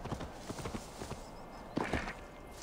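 Horse hooves clip-clop in Assassin's Creed Valhalla, a quick, uneven run of close, crisp hoof strikes at walking pace, with a louder scuffing burst near the end and no speech.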